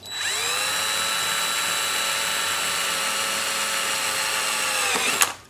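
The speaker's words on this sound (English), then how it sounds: "drill a small hole right through here" A power drill bores a small hole through the plastic housing of a Predator 2000 generator, running steadily at a high whine for several seconds before a sharp click and a quick wind-down.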